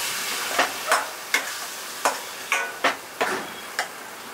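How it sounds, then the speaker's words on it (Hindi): Fried onions in a pan with tomato, chilli and ginger-garlic paste for a wedding-style aloo gobhi curry, heard as a steady sizzle broken by regular sharp scrapes and taps of a stirring spoon. "अब हम इसमें टमाटर मिर्ची और अदरक लहसुन का जो पेस्ट बनाया था वो डाल देंगे।"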